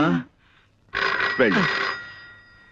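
A telephone bell rings in a short electronic burst, then a second longer ring trails off, with a voice briefly heard at the start.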